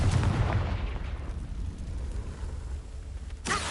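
A Confringo blasting spell in Hogwarts Legacy goes off as a loud booming burst at the start, then a rumbling decay trails away, with a second sharp blast near the end.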